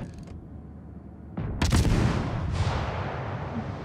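Naval gun salvos from a German T-61 destroyer firing armour-piercing shells in World of Warships: Legends, with a loud broadband blast partway through followed by a second booming report and a rumbling tail, no talk.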